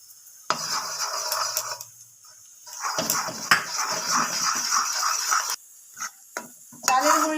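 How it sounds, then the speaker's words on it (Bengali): Utensils scrape and clatter against a pot while rice flour is stirred into boiled carrot over lowered gas heat, in close, irregular bursts with brief pauses and no talking. "চালের গুঁড়িটা দেওয়ার সঙ্গে সঙ্গে এভাবে একটু নেড়ে চেড়ে দিতে হবে, না হলে দলা পেকে যেতে পারে"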